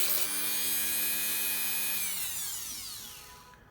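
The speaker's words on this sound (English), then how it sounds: "Even in this range it grinds this welding very good." A Dremel 4000 rotary tool grinds a weld, a close, steady high-pitched whine with gritty rasping contact noise that holds for a few seconds, then winds down in pitch as the tool spins down at the end.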